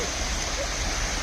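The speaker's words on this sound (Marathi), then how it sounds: "आणि हा बघा धबधब्याचा व्ह्यू." The waterfall at Nidi dam in Raigad is a loud, constant broadband rush of falling water heard close up, with no breaks through the short stretch.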